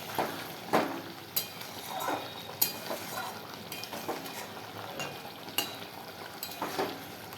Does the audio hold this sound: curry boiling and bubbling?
yes